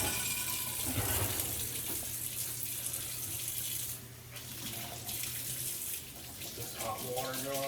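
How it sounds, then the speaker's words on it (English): Hot water runs from a kitchen tap into a sink holding a few dishes, a steady hissing gush with a brief clatter and a couple of dips in the flow, fairly quiet. "Just hot water going."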